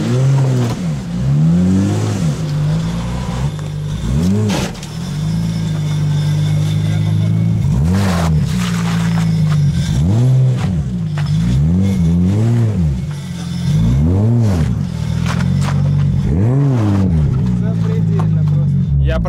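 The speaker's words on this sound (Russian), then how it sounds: "я уже слышу, как выхлоп сифонит где-то здесь" A Nissan Silvia S15 or Laurel C33 drift car engine with an exhaust leak revs up and down repeatedly in loud surging waves, close by, with a rough, raspy exhaust note throughout.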